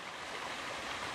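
Small waterfall beside a village fish pond, a steady, hissing rush of falling water, constant and fairly faint, with no voices.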